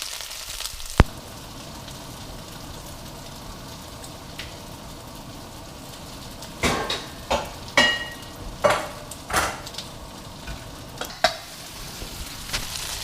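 Pad Thai rice noodles frying in tamarind sauce, a steady sizzle with a series of scraping stirring strokes against the pan in the second half, close and fairly loud.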